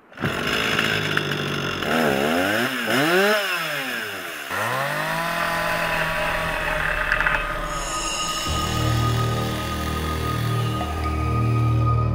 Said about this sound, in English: chiseling with the chainsaw, trying to get these sheets of plywood to fit around these round poles